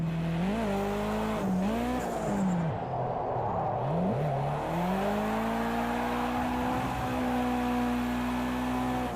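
A turbocharged car in a racing video game mod slides sideways with a steady, rising tire squeal over a continuous engine drone, all loud and close without voices.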